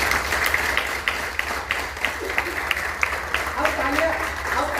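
Audience applause after a fitness session talk: scattered hand claps ring out over a constant low hum while voices talk throughout.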